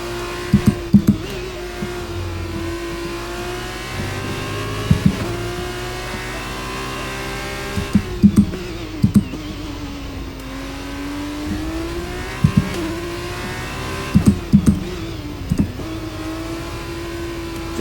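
An F2 race car engine in the F1 23 video game at Hungary revs continuously, its pitch rising and falling as the throttle is modulated through corners, with short sharp bursts of downshift crackle recurring.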